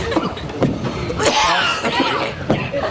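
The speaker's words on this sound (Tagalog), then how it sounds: "Hindi acting ang ubo nito." A man coughs several times in short, rough bursts in a comedy sketch, close by, with snickering and laughter-like sounds mixed in.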